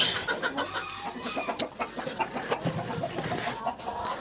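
Broody hens cluck at their nest among turkeys sitting on eggs in a barnyard coop, giving a near, continuous run of low clucks and soft chatter with one sharper squawk partway through.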